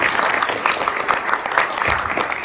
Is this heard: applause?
yes